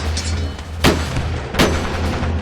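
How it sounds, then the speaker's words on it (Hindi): Two loud gunshot blasts ring out from soldiers firing guns in a battle, each a sharp crack with a booming tail, spaced under a second apart over a low steady rumble. "फिर यवन सेना अपनी बंदूकों से धड़ धड़ गोलियां चलाई,"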